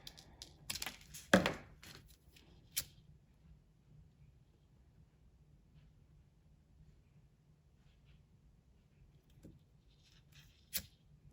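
Wax cord ends being snipped while making a braided bracelet: a few sharp, close clicks and crisp snips in a short burst near the start, one more snip shortly after, then near silence and a final snip at the end.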